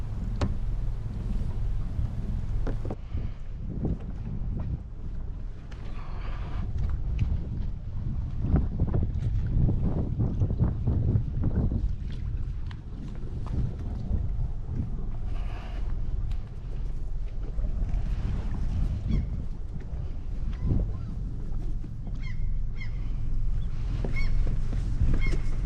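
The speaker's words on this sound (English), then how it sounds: "So here I'm going to move the boat to the other side of the bay." A boat motoring across a bay, with a steady low engine drone and wind buffeting the microphone, alongside occasional faint bird calls.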